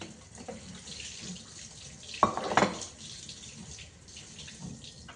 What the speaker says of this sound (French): Les rincer à l'eau froide.